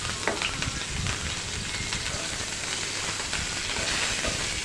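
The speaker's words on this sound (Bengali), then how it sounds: "এখানে সামান্য তেল দিয়ে দিচ্ছি এবং আমি এখানে পেঁয়াজ এবং কাঁচামরিচ কেটে রেখেছিলাম, সেগুলোর মধ্যে দিয়ে দিব।" Chopped onions and green chilies fry in a little hot oil, giving a steady, close sizzle and hiss that runs unbroken throughout with no voices.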